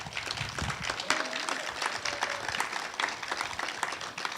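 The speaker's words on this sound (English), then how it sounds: "I want to give her a round of applause" Guests at a swearing-in ceremony give a moderate round of applause, a continuous patter of many hands heard at some distance, with faint voices mixed in.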